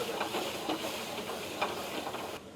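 Butter sizzles in a frying pan near the end of cooking, a steady crackling hiss with small spatters and stirring scrapes, close and continuous.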